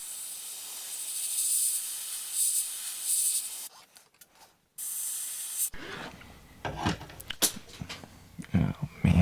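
An airbrush sprays transparent black paint onto a fishing lure, giving a steady close hiss that cuts out briefly, then clattering handling noises follow.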